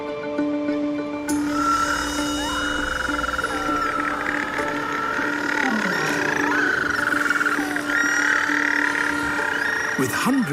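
Seabirds calling as they return at night to a crowded nesting colony on the Tasmanian coast, a loud, continuous overlapping chorus of warbling and croaking calls close by, with wavering tones rising and falling throughout.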